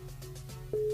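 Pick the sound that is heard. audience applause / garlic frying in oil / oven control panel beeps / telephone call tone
telephone call tone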